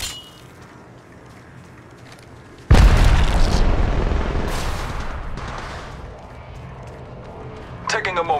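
Arcstar grenade exploding in the mobile game Apex Legends Mobile, a sudden loud boom followed by a long fading rumble, with a brief burst of noise at the end.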